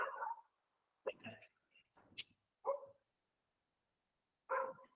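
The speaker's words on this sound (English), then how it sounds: "Sorry, this is barking in the back." A dog barks several times in short, separate bursts in the background, faint and distant, during a webinar with quiet gaps between the barks.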